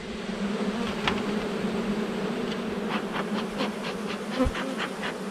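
Honey bees droning steadily in a queenless hive, a dense close buzz that fills the whole stretch, with brief louder passes of single bees near the end and no talking.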